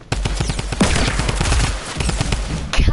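Rapid-fire guns shooting in a video game: loud, dense bursts of quick gunshots crackle continuously for about three seconds.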